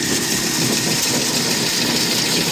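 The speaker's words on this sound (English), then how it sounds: "This old seed cleaner is doing a heck of a job." Clipper No. 2B seed cleaner fanning mill, a 75-year-old rebuilt and modified grain cleaning machine, running with a loud, steady mechanical hum and rattling shake, constant and close with no talk.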